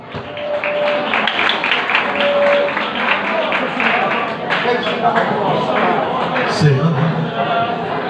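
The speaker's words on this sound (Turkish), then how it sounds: "Alkışlarla gönderir mi Kemal'ciğim?" An audience at a wedding hall claps in a steady, dense burst of applause that lasts several seconds and then thins out. A voice speaks over the clapping near the end.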